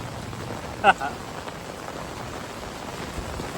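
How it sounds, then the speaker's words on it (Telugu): Heavy rain hisses steadily throughout, with a brief sharp knock near the start; a faint voice sits low in the background. "బాగా కొడుతుంది వర్షం"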